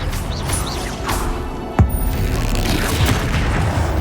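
A Bombarda blast spell goes off in Hogwarts Legacy, one sharp boom near the two-second mark over a dense bed of game effects and ambience.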